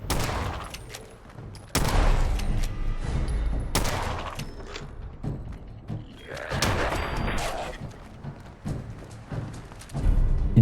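Deadeye Bullpup Scout Rifle shots in Fallout 4, several loud, sharp cracks spaced a second or two apart with clattery mechanical noise between them, and no talking.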